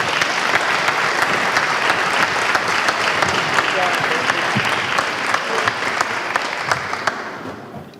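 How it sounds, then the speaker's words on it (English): Audience at a meet-the-candidates forum applauding candidates, a dense, steady round of clapping from a full room that holds strong and then fades out at the end. "how about one more final round of applause for our candidates?"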